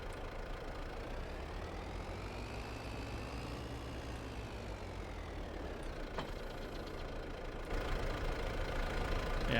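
A tractor engine idles steadily in the farming game Farming Simulator 22, a continuous low rumble with a faint rising and falling whine, slightly louder near the end.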